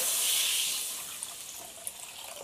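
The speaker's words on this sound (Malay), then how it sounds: "Kita tengok kuali mak. Kuali lama ya. Kita masukkan air." Water pours into an old wok in a home kitchen, a steady broadband splash that is loudest at the start and thins to a softer trickle with a couple of small drips, with no talking.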